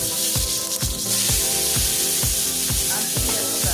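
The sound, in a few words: frying fresh seasoning of garlic, onion, sweet pepper and thyme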